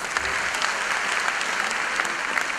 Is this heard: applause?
yes